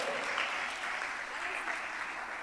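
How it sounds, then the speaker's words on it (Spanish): Steady applause from a church congregation, continuous clapping without pauses at moderate volume. "¡Aplauso, por favor!"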